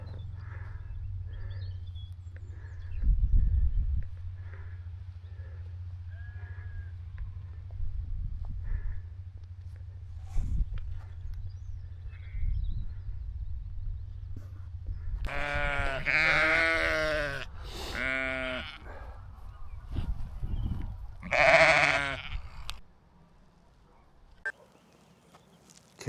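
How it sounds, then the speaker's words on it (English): Sheep with their baby lambs bleat in an open hillside setting on a hike near Blackden Brook, several loud, wavering calls in the second half after quieter distant bleats over a low wind rumble. "Look at all the sheep with the baby lambs."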